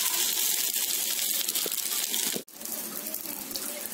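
Beaten egg hits two tablespoons of hot oil in a pan, a loud steady hiss and crackle of frying that dips briefly then resumes, close and without talk.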